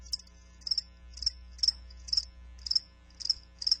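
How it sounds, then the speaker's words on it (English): Crickets chirping in a steady, regular rhythm, about seven short pulsed chirps in under four seconds, clear and fairly close over a faint low hum, with no voices. "That's right, crickets."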